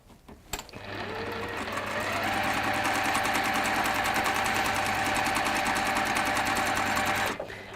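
A sewing machine stitches fabric after a brief click, then runs in one continuous, even whirring burst of rapid needle strokes lasting several seconds before stopping abruptly.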